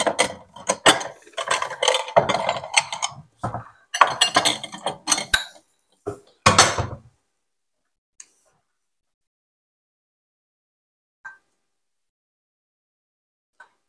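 Garlic cheese grits being spooned into a small ceramic dish, with a series of close clinks and scrapes of utensil against dish over several seconds, then quiet with a couple of faint taps.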